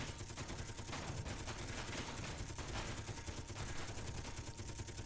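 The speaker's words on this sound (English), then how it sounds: "Switch to our Gatling guns." Gatling gun fire in the space survival game Space Engineers, a continuous dense rattle of rapid shots forming a steady, unbroken roar for several seconds.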